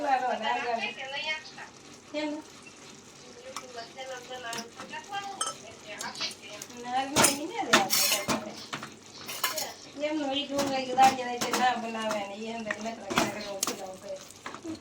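Metal spoon clinks and scrapes against a pot as masala spice is stirred into Maggi noodles cooking on a stove, with a few sharp clanks amid soft sizzling while someone talks throughout.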